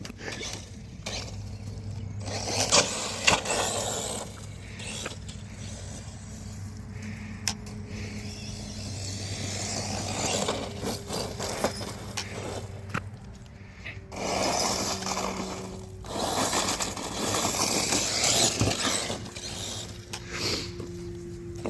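A Hosim Vortan brushless 1/8 scale budget RC car drives with a continuous whirring motor whine, rising and falling as it speeds up and slows, with occasional clicks and rattles over some twenty seconds.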